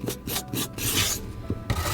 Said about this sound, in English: Peel the carrot,